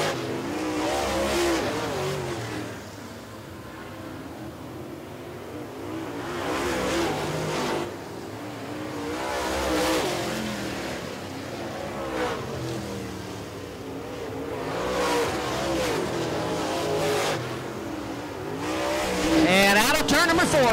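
Super late model race cars lap Richmond Raceway, their engines swelling and fading in repeated passes at medium distance while an announcer talks over the racing.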